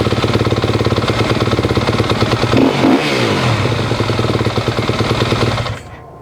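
A 2019 Yamaha YZ250F dirt bike engine fires up and runs with a loud, steady, rapid four-stroke chatter close by, briefly swelling with a rev before the sound cuts off near the end.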